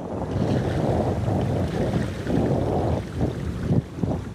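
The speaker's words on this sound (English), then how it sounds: "The great ship of the Great Lakes moves quietly and efficiently through the water." The Great Lakes freighter Paul R. Tregurtha, a ship more than three football fields long, moving through open water: a steady, broad rush of water and wind noise without pause, with no voices.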